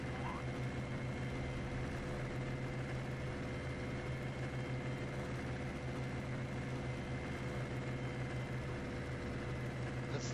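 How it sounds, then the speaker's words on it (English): Aircraft engines drone in the WWII flight game IL-2 1946, a steady, even hum with a constant low tone running throughout and no change in pitch. "The enemy's got quite a few planes up."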